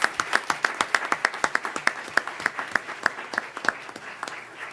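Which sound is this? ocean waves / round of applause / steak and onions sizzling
round of applause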